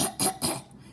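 A voice imitates a fox coughing in a children's story, three quick harsh coughs in a row, close and loud, then a short quiet tail.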